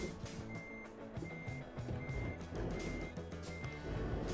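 A truck in Euro Truck Simulator 2 backs up while parking, its reversing alarm giving steady, evenly spaced beeps over a low engine rumble, at a moderate, close level throughout.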